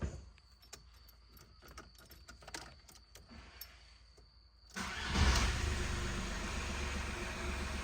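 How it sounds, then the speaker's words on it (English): A Volkswagen Polo 1.4 TDI diesel is started: first some quiet clicks and a faint jingle of keys, then the engine cranks and catches, settling into a loud, steady diesel idle that fills the rest of the moment. "let's start the vehicle for the first time and see how everything is working and sounding"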